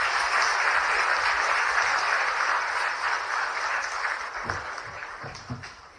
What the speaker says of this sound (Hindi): एक बार पुनः जोरदार तालियों से अभिनंदन।